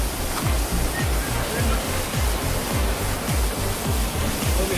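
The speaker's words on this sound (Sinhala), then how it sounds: "ඇල්ලේ ඉන්නේ. ඇල්ල ලස්සනයි." Waterfall at Dehiyagala pours in a dense, continuous rushing roar, close and steady, with a repeating low rhythmic thump underneath the splashing water.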